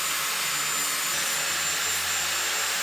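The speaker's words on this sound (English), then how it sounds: "We'll grind it in." Angle grinder grinding a metal part of a dirt bike track conversion to make it fit: a loud, steady, high whine that holds at full intensity and then cuts off abruptly at the end.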